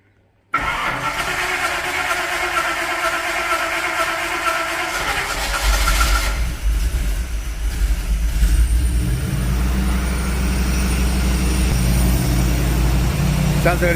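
An S-15 engine fitted with two new Phytech injectors starts abruptly and settles into a steady, close, loud idle with a rough, throbbing rumble lasting over ten seconds.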